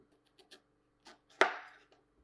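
A knife cuts through zucchini on a board in a few quiet, separate strokes, one sharper chop standing out among soft taps, close and alone.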